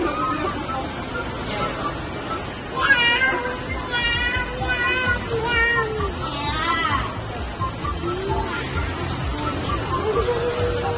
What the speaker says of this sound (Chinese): 这个猫好像小灰灰啊